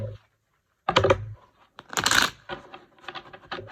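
Tarot cards shuffled by hand in a few quick riffling bursts with short pauses between, close and fairly clear, no talking.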